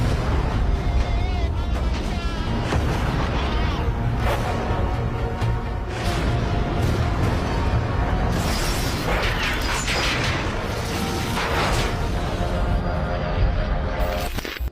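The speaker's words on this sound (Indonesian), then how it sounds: "mereka langsung disambut dengan tembakan senjata anti pesawat Jerman" German anti-aircraft guns fire in a dense, continuous barrage of booms and bursts, loud and chaotic, with whooshing and mechanical clatter layered through it.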